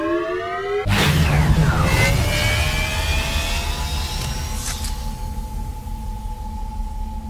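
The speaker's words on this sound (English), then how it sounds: "Engine powering on." A mech's engine in the video game Overheat: Mech Warzone powers on with a sudden loud whoosh about a second in, then settles into a steady whirring hum with a rising tone that holds to the end.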